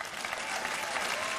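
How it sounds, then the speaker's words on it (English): An audience breaks into steady, dense applause at a sports awards show in the Hall of Champions. The clapping is continuous and evenly loud throughout. "Please, a round of applause for the Hall."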